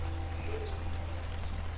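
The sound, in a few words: rain starting to fall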